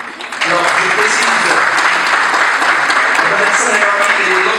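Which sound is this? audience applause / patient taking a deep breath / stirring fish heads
audience applause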